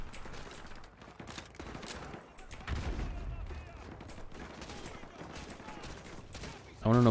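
Sustained gunfire in a Modern Warfare 2 Campaign Remastered mission, a dense fusillade of rapid automatic bursts and single shots running throughout at close range, with a player's voice talking over it and a loud burst near the end.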